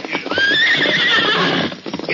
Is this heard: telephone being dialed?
no